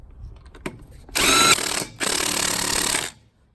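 Pneumatic impact wrench running in two loud bursts of about a second each, driving lug nuts back onto a wheel's studs after a stuck wheel was removed, with a faint click just before.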